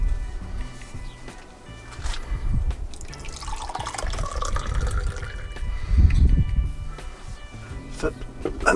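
Water pours into the water barrel of a Nanopresso portable espresso maker, a trickling, splashing fill of changing pitch heard close up, with speech mixed in throughout.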